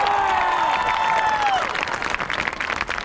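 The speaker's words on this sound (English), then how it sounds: "Give yourselves a big round of applause." Graduation audience applauding and cheering loudly, dense clapping with whoops and pitched shouts over the first half, then settling into steady crowd clapping.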